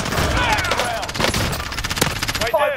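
Rapid bursts of gunfire in the battle royale shooter Warzone, with sharp repeated shots crackling in quick succession, loud and close, mixed with in-game voices.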